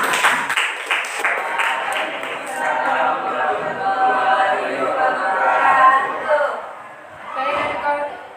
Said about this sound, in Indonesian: selanjutnya tepuk tangan untuk kelompok 4